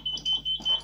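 A networked fire alarm panel under test beeps in short, evenly spaced high-pitched pulses, five in under a second, close and clear over a faint background hum.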